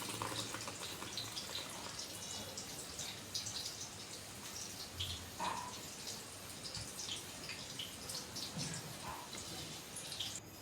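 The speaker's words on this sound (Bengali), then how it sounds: "এবার একটা ছিদ্রযুক্ত ঝুড়ির সাহায্যে আমরা চালটাকে জল থেকে আলাদা করে নিব।" Soaked rice for a chicken dum biryani is tipped into a perforated basket lined with cloth, and water trickles and patters through it steadily and quietly, with a few soft drips rising above the continuous wash.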